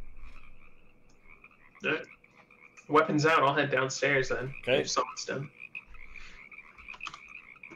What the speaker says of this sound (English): Some of the ribbits are very loud, very deep. Like dire frog deep.